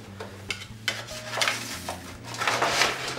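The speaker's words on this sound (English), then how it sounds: "we're gonna be taking our Untitled pizza of awesome out of the oven now and chopping it up" A freshly baked homemade pizza topped with melted cheddar is chopped up, with close knocks and scraping of a cutting tool on the pan and board in uneven bursts.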